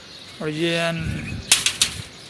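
Racing pigeons flap their wings as they land during a pigeon-flying competition: a short run of three or four sharp, close flutter bursts after a brief voice.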